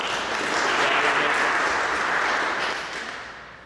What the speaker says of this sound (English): Let's give one more round of applause for everybody that came up tonight.